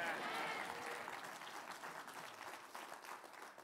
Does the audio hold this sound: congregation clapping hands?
yes